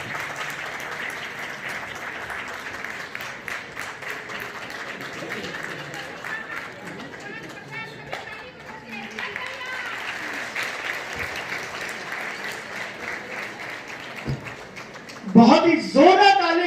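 A large audience applauds at a Rajasthani Arora Khatri education-encouragement award and talent-honouring ceremony, steady clapping throughout with crowd noise and some voices mixed in, swelling louder near the end.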